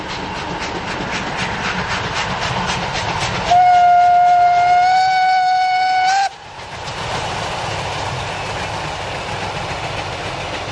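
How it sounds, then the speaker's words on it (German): A Prussian steam locomotive special passes in the opposite direction on a line in the Münsterland, its whistle sounding loud and sustained for a few seconds over the steady rumble and clatter of the train. "Bei Natrup begegnet uns der Zug noch einmal in der Gegenrichtung."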